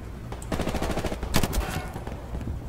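Rapid video-game gunfire with sharp impact cracks of bullets striking an enemy soldier's helmet, loud and dense bursts with a few stronger hits in the middle.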